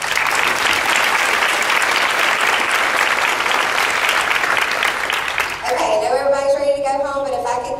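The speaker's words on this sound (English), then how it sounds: "let's please give Miss Eileen's needed round of applause." Loud, sustained applause from a large crowd fills the space, then gives way to a voice speaking near the end.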